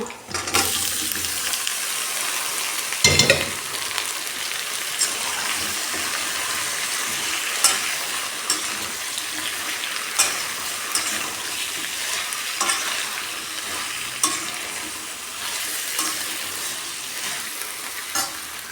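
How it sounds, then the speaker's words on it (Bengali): Okra and potatoes fry in a pan with a steady, dense sizzle throughout, broken by occasional scraping stirs and a louder clatter early on, close and continuous. "এর জন্য ভাবলাম একটা আলু দিয়ে দিই তো আলু আর ভেন্ডি হচ্ছে ভাজি করব।"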